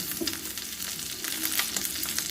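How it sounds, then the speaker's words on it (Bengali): Cumin seeds and a bay leaf spit and crackle in hot oil in a kadai, a dense, lively sizzle with small popping bursts throughout and no voices. "কড়াইতে এবার আমি জিরে, তেজপাতাটা দিয়ে দিলাম।"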